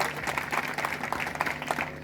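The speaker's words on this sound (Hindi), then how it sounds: "ताली बजाकर एक बार" Audience clapping at a death-anniversary memorial programme honouring Bajirao Peshwa at his samadhi, a steady, moderately dense round of applause from a gathered crowd lasting about two seconds.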